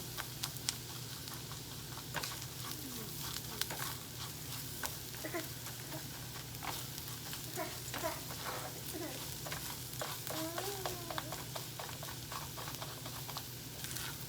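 Rice toasting in a pan for yellow rice gives a steady, close sizzle and frying hiss with occasional stirring scrapes and light patters throughout, with no talk.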